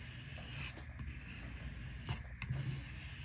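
A knife blade is sharpened freehand on a sharpening stone, making soft, repeated rasping strokes with a few short scraping accents, close and fairly quiet.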